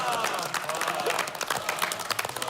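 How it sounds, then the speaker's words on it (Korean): A TV variety show studio audience bursts into lively applause, dense clapping continuing steadily for a couple of seconds at close range. "다 같이 박수 한번 주세요."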